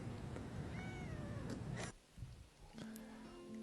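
A pet cat nicknamed Mr. Meowington meows loudly and insistently, its wavering yowls running close and continuous before breaking off, followed by quieter scattered sounds and a low steady tone.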